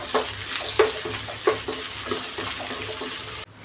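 Restaurant-style chicken Manchurian stir-fried on high flame, with a constant loud sizzle and rhythmic clanks of a ladle tossing it in the pan, close up, cutting off abruptly at the end.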